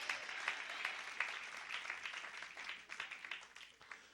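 A church congregation applauds during a sermon, steady moderate clapping with a few sharp accents, heard from some distance and softening toward the end.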